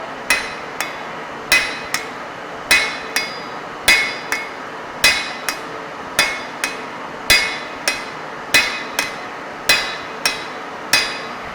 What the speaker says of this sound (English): grip the hammer at the end of the handle and then apply force on the job